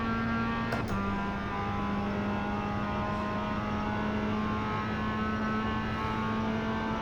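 A race car engine in the iRacing video game drones steadily at a constant pitch. There is a quick shift about a second in, then the engine holds a loud, continuous tone with no talk over it.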